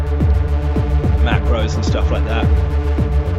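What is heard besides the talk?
industrial EBM synth drone from an Ableton preset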